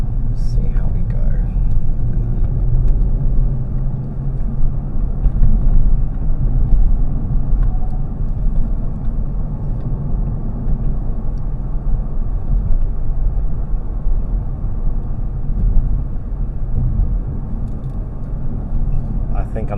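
A 2022 Kia Stinger GT being driven downhill on tight roads, its engine a steady low rumble with mild swells, under someone talking for most of the stretch.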